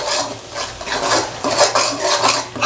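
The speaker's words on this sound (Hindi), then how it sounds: "अच्छी तरह से मिक्स कर देते हैं।" Repeated scraping strokes of a spoon stirring jackfruit masala curry in a pan, close and loud with a light sizzle underneath, and no talking.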